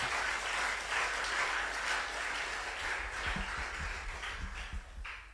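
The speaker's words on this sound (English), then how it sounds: "Let's applaud for this august institution." Sustained applause from a crowd at a high school debate contest in Ghana, a broad steady clatter of clapping that thins slightly toward the end.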